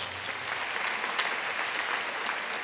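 Loud, steady audience applause at a school entrepreneurship awards ceremony, dense clapping filling the whole moment without pause.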